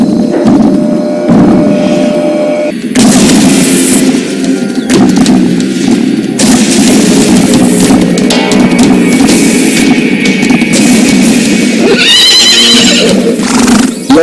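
A horse neighs loudly and repeatedly, several long shrill whinnies close by, separated by brief pauses and breathy snorts.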